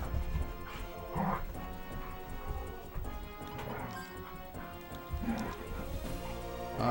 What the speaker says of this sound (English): Puppies are playing.